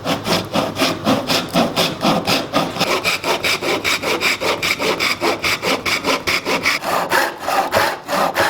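A hand saw cuts through wood for a teardrop camper build in quick, even back-and-forth strokes, loud and close, continuing steadily for over eight seconds with no talking.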